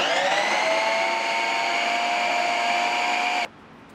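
A Preethi Zodiac mixer-grinder slicing raw plantain whirs steadily at high speed, a loud continuous motorized drone that cuts off abruptly near the end, leaving near silence.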